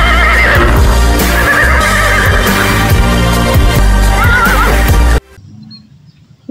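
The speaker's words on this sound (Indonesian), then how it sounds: "ini adalah kuda" A horse animal toy plays a loud recorded neigh with wavering whinnies over clip-clopping hooves, ending abruptly and leaving a faint quiet tail.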